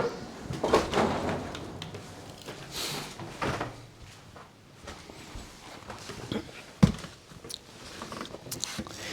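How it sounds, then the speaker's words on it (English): A door leading upstairs opens and shuts indoors, with creaks and scattered thumps and one sharp knock near the end, against a quiet room background. "The door to upstairs, the door which doesn't have long to live."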